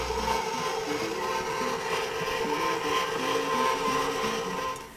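A stand mixer kneads pizza dough with a steady motor hum and a rhythmic, pulsing churn running continuously at moderate loudness, fading slightly at the very end.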